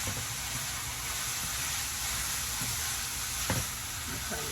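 Gardein vegan sausage frying in a pan, a close, steady hissing sizzle with a few scrapes and taps of a utensil.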